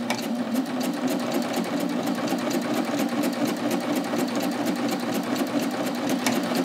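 A BabyLock Ovation serger sews a 1/4 inch seam, trimming fabric as it goes, with a steady, fast, even mechanical whir and rapid stitching rhythm throughout, close and alone with no talk.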